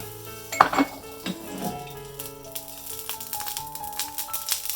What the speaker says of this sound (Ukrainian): Розігріваю сковорідочку і починаємо.